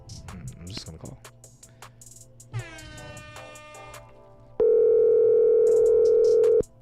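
A telephone line gives a steady, loud dial tone for about two seconds after some handling noise and a rising tone as a call is placed.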